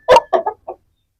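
An Aseel hen clucks four short, close-up times in quick succession, with one sharper first cluck and the rest softer, and no other sound around it.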